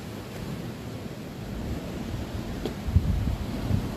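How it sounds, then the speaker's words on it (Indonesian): Ocean waves roll and break against the foot of a sea cliff at a coastal tourist spot, a steady low rumbling wash mixed with gusty sea wind buffeting the microphone, with no voices. "Di sana terlihat ombak menggulung memecah bibir tebing ya. Desiran ombak, sesekali angin laut menghembus ke daratan"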